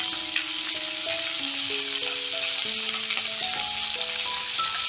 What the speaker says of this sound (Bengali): এটা একটু হালকা ভাজা ভাজা করে নেব